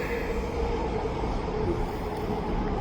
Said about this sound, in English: SkyTrain in here, why not?